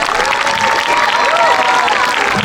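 A school audience gives students a round of applause, a brief burst of dense clapping with a murmur of voices and cheering mixed in.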